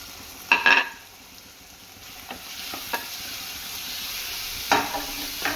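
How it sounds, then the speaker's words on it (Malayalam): Chopped onion goes into a hot pan for red sauce pasta, a soft steady sizzle broken by a few sharp scraping stirs and clatters near the start and end, fairly close and with no talking. "ഇനി നമുക്കിതിലേക്ക് സബോള അരിഞ്ഞ് വെച്ചേക്കുന്നത് ഇടുവാണേ"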